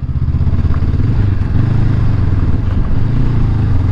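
A motorcycle rides over a bumpy, uneven gravel road in Spray Valley, Spray Lakes Provincial Park, Canada. The engine drones loud and steady with constant rumbling and clattering from the rough surface, heard close and continuously.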